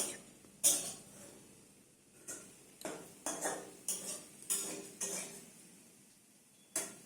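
A spatula scrapes and clinks against a pan while potato fry is stirred, a series of sharp metallic taps and scrapes in a quiet kitchen, spaced irregularly with short pauses between strokes.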